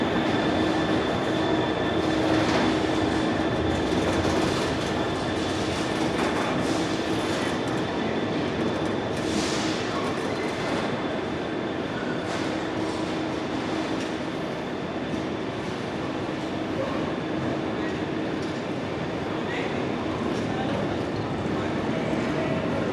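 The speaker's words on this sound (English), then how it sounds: "Now departing is GBRF" A GBRF Class 66 diesel freight locomotive, 66307, pulls out of Preston station: a steady engine rumble with a hum and faint wheel squeal echoing under the station roof, wagons rolling by throughout.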